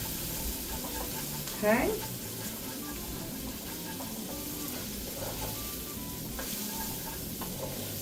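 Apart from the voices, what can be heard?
vegetables sautéing in a pan for chili lime shrimp ramen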